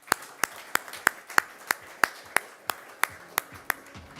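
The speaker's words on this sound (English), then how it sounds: "let's have a big round of applause from hockey" Clapping at a sports awards night as a hockey award recipient is called up, heard as a single close, sharp, evenly spaced series of about fourteen claps rather than full crowd applause.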